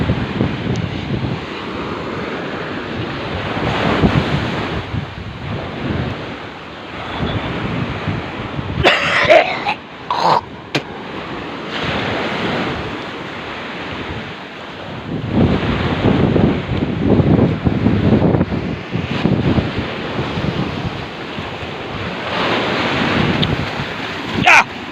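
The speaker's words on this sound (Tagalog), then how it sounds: "Lakas ng hangin. May alon pala." Strong gusting wind buffets the microphone outdoors along a shore, with surf washing in underneath; a brief cough or throat-clear breaks in near the middle, and the roar swells and eases throughout.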